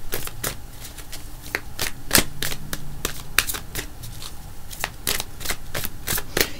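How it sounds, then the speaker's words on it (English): A deck of tarot cards being shuffled by hand, with sharp riffling snaps and flutters repeating in quick irregular bursts, close and clear throughout. "I want to pull another card, but I want to shuffle for a second"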